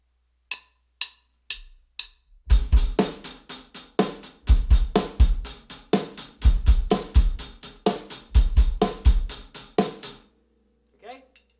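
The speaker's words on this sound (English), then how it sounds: "if you play the hi-hats the same, with the same velocity, the same strength, every single hit, it's going to sound like this." A drum kit plays a rock groove with hi-hats struck at an even, unchanging strength on every hit, driven by kick and snare after a few count-in clicks. It is loud and close, then it stops.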